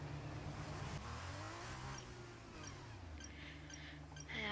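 Formula 2 race car engines in a racing video game, idling and revving on the formation lap: a steady, close, loud engine drone with harmonic pitch sweeps rising and falling, and short higher bursts near the end.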